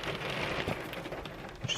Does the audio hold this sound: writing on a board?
no